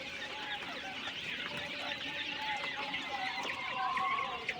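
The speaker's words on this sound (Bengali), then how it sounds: "দেখেন আলহামদুলিল্লাহ রানিং পাখিগুলো দেখেন" A flock of king quail birds on a small farm keeps up continuous, fairly close clucking and chirping, with a steady murmur of calls throughout.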